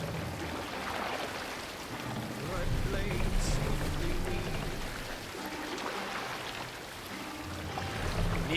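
Wooden longship oars dipping and pulling through water in Assassin's Creed Valhalla, a steady wash of splashing and lapping with wind-like noise, swelling in the middle and again at the end.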